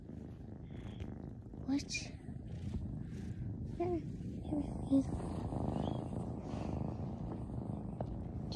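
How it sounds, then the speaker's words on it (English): Cat purring close up, a steady low rumbling that runs throughout, with a voice speaking softly over it. "this is my cute little kitty"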